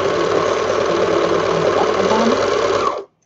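Sewing machine stitching at a steady, continuous whir with a low mechanical hum, loud and close, running alone for about three seconds before stopping abruptly.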